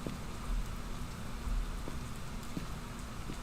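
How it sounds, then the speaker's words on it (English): Steady rain patters in the horror game Phasmophobia, a constant wash of droplets at moderate level with a few brief low thumps, no voices. "Also, it's raining. I just now heard rain."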